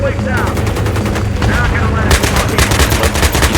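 Dense, loud automatic gunfire from the Battlefield 3 video game, rapid overlapping bursts with a heavier barrage building partway through, steady and close throughout.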